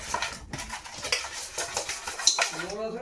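Fish pieces coated with salt and turmeric are shaken in a pan, producing close, rhythmic rattling and clinking of metal over soft patter, with a brief voice in the background.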